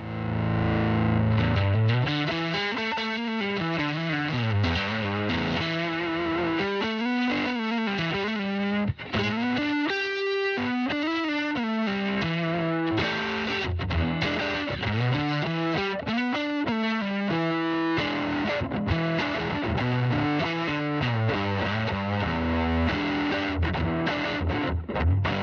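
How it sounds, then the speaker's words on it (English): Electric guitar runs through a Tone Flexor effects pedal, producing a thick, heavily distorted sustained tone with swelling, wah-like sweeping bends that play continuously and loud throughout. "This is the tone flexor."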